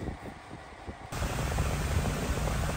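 A portable air conditioner running noisily, a steady broadband hiss and hum that jumps sharply louder partway through as the unit ramps up, then holds constant.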